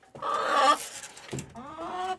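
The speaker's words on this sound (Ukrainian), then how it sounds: "Півник." A rooster gives two short, hoarse calls close by, separated by a brief pause.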